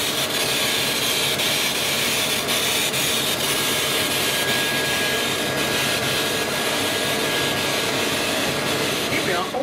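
A laser engraver runs an engraving job at 256 pixels per inch, 100 mm per second and 14% power, testing dottable materials. It makes a loud, steady broadband whir and hiss throughout, with a faint thin tone held near the middle.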